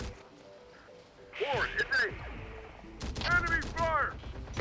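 Bursts of gunfire in the Terminator: Dark Fate Defiance video game come in rapid clusters of sharp shots over steady background game sound, with a brief synthetic voice line mixed in.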